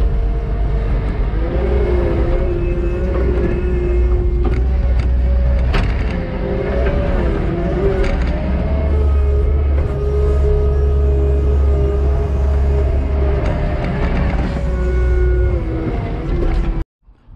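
A skid steer's diesel engine labours steadily while cutting grade on a dirt site, a loud continuous drone with shifting pitch as it pushes and revs, running alone without speech.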